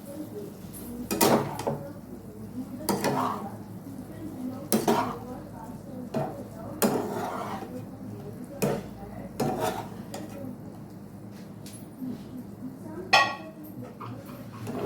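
Fried cauliflower is stirred in a pan, with repeated scraping strokes of a spoon against metal and a light sizzle underneath, arriving in irregular bursts every second or two.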